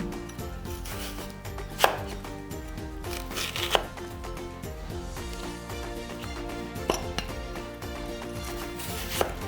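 A knife chops ingredients on a cutting board while preparing Vietnamese sour fish soup, a steady run of soft cuts punctuated by a few louder, sharper strikes, with background music underneath.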